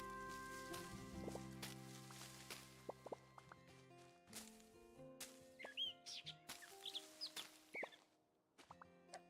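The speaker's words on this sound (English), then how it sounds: "Was that chicken making a bird sound?" Faint bird-like chirps and tweets from a chicken in the video game Luma Island, brief high calls scattered among soft game sound effects and tonal plinks in a quiet scene.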